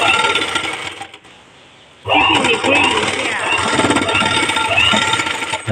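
A household sewing machine stitches cloth tiffin bags, falling quiet briefly before launching into a rapid, loud mechanical rattle that runs steadily to the end, with people talking nearby.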